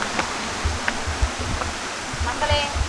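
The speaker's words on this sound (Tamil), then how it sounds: "வந்தாச்சு வாட்டர் ஃபால்ஸ் கிட்ட" Hidden waterfalls at Bargur near Erode send up a constant broadband rush of falling water. Soft low thumps and brief faint voices come through under the wash.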